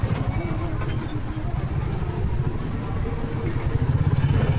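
E-rickshaws and motorbikes pass along an evening street in Gossaigaon town, a continuous low engine rumble and clatter close by, with a person talking over the traffic.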